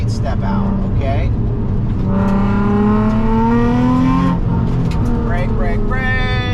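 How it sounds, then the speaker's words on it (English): Race car engine revving hard on a slippery tree-lined road, pitch climbing and dropping through rev-matched downshifts, loud and continuous with a voice speaking over it. "You better rev match this thing good because it might step out, okay?"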